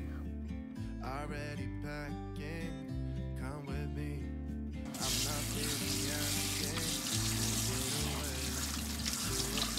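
Steady running tap water splashing over ginger in a sink, with a low hum underneath; the flow gets louder and brighter about halfway through.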